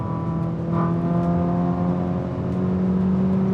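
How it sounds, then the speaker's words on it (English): A revving car engine with a 034 Stage 2 tune drones steadily up close, its exhaust rumbling with a low, throaty tone throughout. "Listen to that exhaust too."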